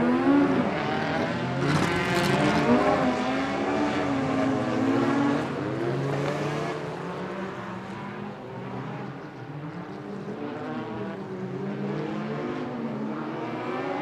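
Stock cars racing around an oval track at a night meeting, a dense roar of several engines rising and falling as they pass close by, with revs sweeping up and down continuously.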